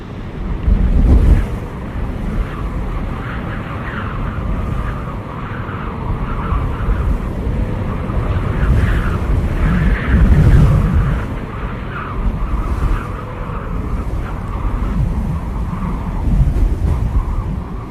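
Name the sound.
strong wind blowing over the sea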